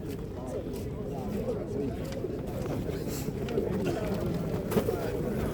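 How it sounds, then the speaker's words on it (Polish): Soft pigeon cooing at a pigeon market in Ełk, Poland, runs beneath people talking nearby, with faint scattered bird calls in the background. "No ładne ptaszki."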